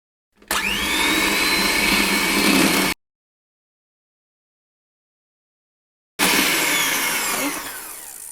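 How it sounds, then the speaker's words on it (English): An electric hand mixer whisks oil, butter, sugar and vanilla into a creamy batter for a jam and coconut sponge, making a loud, steady motor whine in two long bursts separated by several seconds of silence. "I'm going to start whisking this until it's nice and creamy and light in color."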